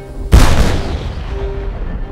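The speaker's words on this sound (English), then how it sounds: "It was this factor that allowed the sound of the battle, especially the British heavy cannon, to be heard 20 miles away in lower Manhattan." Heavy British cannon fires once in battle, a loud deep boom that cuts in sharply and rolls away into a long fading rumble.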